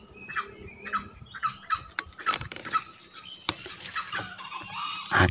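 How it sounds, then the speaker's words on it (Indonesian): A wild junglefowl rooster crows faintly from a distance in a forest setting, its brief calls mixed with other bird chirps and clucks over a steady high insect drone. "satunya berkokok."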